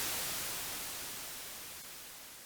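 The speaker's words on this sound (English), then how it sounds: "But if we change it to white noise" Steady broadband white noise generated by a Max MSP patch, a smooth even hiss spread across all pitches, continuous and slowly fading slightly in level, with no voices.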